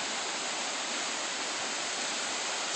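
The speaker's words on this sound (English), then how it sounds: "Daddy and Chloe came up to the huge waterfall." A huge waterfall seen from a hiking trail gives a loud, constant broadband rush of falling water that fills the whole clip without a break.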